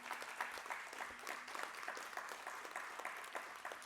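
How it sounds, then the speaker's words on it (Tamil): A crowd at an honouring ceremony for Nalli Kuppusamy Chettiar applauds, faint but steady clapping heard from some distance, with no talk over it. "பரத்த கரகோஷத்துடன் வருக வருக என்று வரவேற்கிறோம்"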